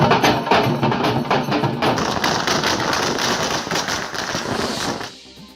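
A dense, rapid barrage of firecrackers bursts nonstop at a street celebration in Ghatkopar, loud and crackling for about five seconds before cutting off abruptly, with no voices audible.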